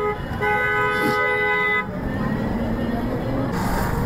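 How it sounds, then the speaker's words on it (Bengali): Busy road in Tangail town, Bangladesh, with a long steady car horn toot blaring near for nearly two seconds over continuous traffic rumble, then engine noise and passing vehicles carrying on. "এখানে এই রাস্তাটা কিন্তু সবসময় ব্যস্ত থাকে, ব্যস্ততম রাস্তা এটি।"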